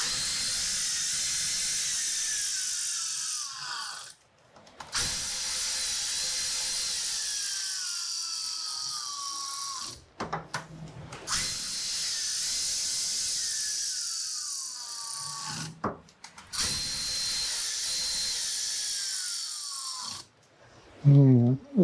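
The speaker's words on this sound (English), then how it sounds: "Torque those down." A ratchet torques down bolts on an engine cam during a Revelry 700cc kit build, giving several separate spells of close mechanical ratcheting and whirring split by short pauses, with a sharper clatter near the end.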